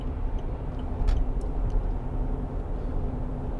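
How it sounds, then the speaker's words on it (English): Steady low diesel drone of a Land Rover Discovery 3 2.7 TD V6 under way, a constant rumble with road noise and a few faint ticks, even and unbroken throughout. "So nice big engine, nice big diesel engine, hardly working."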